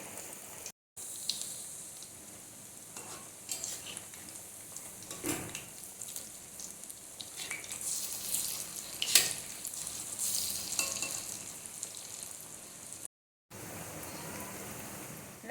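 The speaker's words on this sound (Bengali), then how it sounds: "এইভাবে এই বড়াগুলো পরপর পরপর তেলেতে ছেড়ে দিয়ে লাল লাল করে ভেজে নিলেই একদম রেডি কুমড়ো ফুলের বড়া" Pumpkin flower fritters sizzling in hot oil, added one after another and fried until reddish, a steady soft crackling hiss with occasional spatters, fairly faint and without talk.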